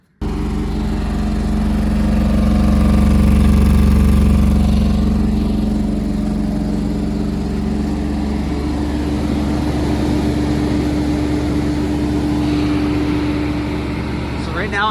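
A Nissan 300ZX that sat for over ten years runs with its throttle propped open near 2,500 RPM, a loud, steady, close engine drone holding throughout with a slight swell early on.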